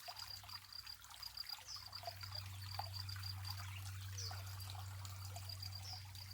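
A small spring-fed stream at Corn Creek in the desert trickles steadily, a soft continuous wash of water with faint high chirps over a low steady hum.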